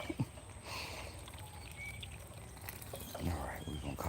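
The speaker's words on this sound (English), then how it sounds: "So I just keep giving it water till I feel like it's had enough." Water pours onto a plant during watering in a suburban homestead garden, a steady faint splashing stream with light outdoor background and a murmur of voice.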